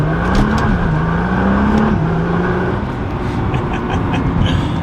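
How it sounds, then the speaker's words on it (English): A Nissan GT-R accelerates hard from inside the cabin, its engine droning loud and steady with rising and falling pitch across gear changes. "Last few accelerations in the car"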